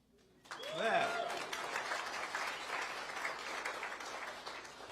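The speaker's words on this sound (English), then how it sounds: "I'm sure they want to give themselves a cheer." Front-office staff and players at an MLS announcement event in Nashville break into sustained applause and cheering, with a whoop rising at the start and a steady wash of clapping from a crowd close by.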